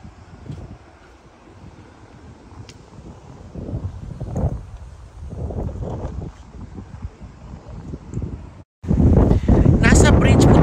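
Strong wind on a bridge in Umeå, Sweden buffets and roars against the microphone in gusts and swells louder near the end. People talk throughout.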